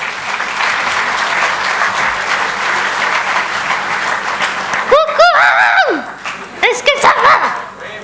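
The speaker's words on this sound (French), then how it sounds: "Mesdames et messieurs, Joy, sous vos applaudissements." A crowd claps steadily to welcome the mascot at a beach arena launch event, then the applause thins as dog-like barks and yips break through near the end, with voices mixed in.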